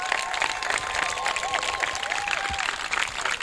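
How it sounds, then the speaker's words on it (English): An audience at a Cory Booker political event gives a round of applause, dense clapping held steady throughout, with faint whistles or cheers mixed in. "Would you please give her one more round of applause as well?"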